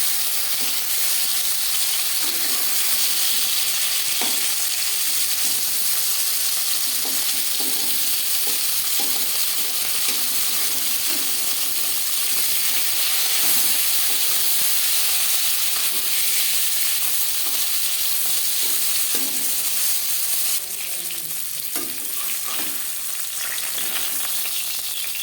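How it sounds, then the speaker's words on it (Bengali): Rohu fish pieces fry loudly in hot oil in a wok, a dense continuous sizzle and crackle with scattered clinks and scrapes as pieces are turned over. "মাছ এক পিস ভাজা হয়ে গেছে অপর পিস উল্টে দেবো"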